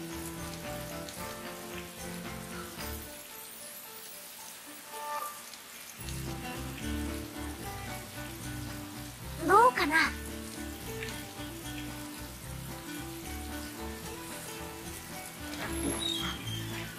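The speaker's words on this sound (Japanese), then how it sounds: "雨やけどな。" Rain falling in the video game Atelier Ryza 2, a continuous hissing patter over tonal game music that briefly drops away, with a few louder rising effects partway through.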